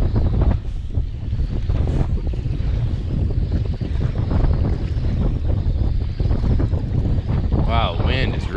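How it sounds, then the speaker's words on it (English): Strong wind buffets an open lake where a big lake trout is being fought from a paddle board, roaring steadily as broadband gusts throughout, with water slapping nearby and voices talking over it. "wind is really picking up, man"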